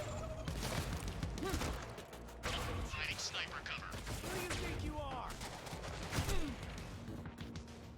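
Gunfire in the video game Quantum Break, dense bursts of shots and fusillades under music and effects, with voices talking over the sustained loud action.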